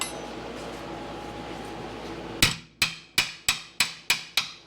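Seven sharp metallic hammer strikes ring out at a steady pace after a stretch of low background hum, working on a 1978 Corvette, each blow loud and close with a brief ringing decay.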